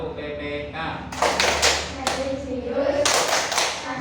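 An Indonesian classroom of standing pupils performs the Tepuk PPK clap chant. Bursts of rhythmic group clapping and slaps are mixed with chanted voices, loud and close, in uneven clusters over a few seconds.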